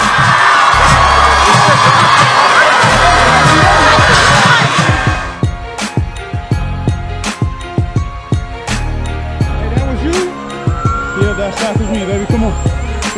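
A loud crowd cheers and yells at a high school game for about five seconds, then the noise falls away, leaving sharp bouncing thumps and scattered shouts.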